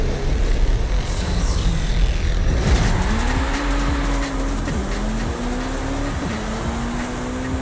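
A car engine in Forza Horizon 5 roars loudly while driving, revving up and down through gear changes with rising and falling pitch sweeps, close and continuous, with faint tire noise.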